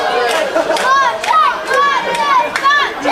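Arena crowd at a 2013 3CW wrestling event, Martin Kirby vs El Ligero, a steady roar of voices with rising chants and cheers in swells roughly every second, running continuously under a commentator's talk.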